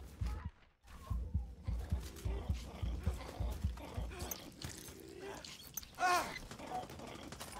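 Gunfire rattles in Far Cry 6 as repeated sharp shots in a rapid burst near the start, with scattered bangs, mechanical clatter and a sudden loud impact later, mixed with game ambience.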